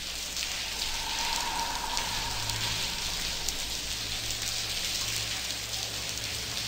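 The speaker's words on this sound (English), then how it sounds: "It's pouring cats and dogs out here." Steady, pouring rain in the point-and-click game The Blackwell Convergence, a dense continuous wash of falling water with a low rumbling undertone throughout, no voices.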